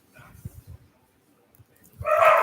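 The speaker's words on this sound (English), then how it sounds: "Those are my dogs. They'll stop barking in a second." Dogs barking in a family house, a few soft muffled woofs early on, then a louder burst of barking at the end, with no talk over them.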